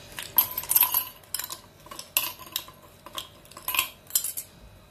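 Ice cubes dropped into a glass for a cold drink, giving a series of bright, close clinks and rattles in irregular bursts over near silence.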